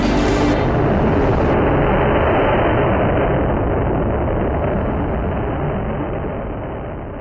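Amateur rocket motor firing on a test stand, a loud continuous roaring rush that holds steady for several seconds and only slightly fades near the end.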